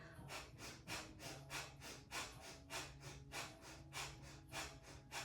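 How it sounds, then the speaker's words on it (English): Rapid, rhythmic breath of fire from a yoga practitioner holding a pose with the legs raised off the ground, about a dozen sharp forceful exhalations at a steady quick pace, close and alone. "Gazing at the toes, begin breath of fire."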